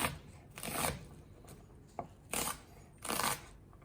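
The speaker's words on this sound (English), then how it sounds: "A little trick when you're chopping onions" Knife chopping onions for a borscht soup base, heard as several short bursts of quick rhythmic cuts on a board with brief pauses between them, close and fairly loud.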